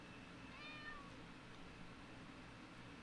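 A house cat lets out one short, faint meow early on against a low, steady room hum, with no talking.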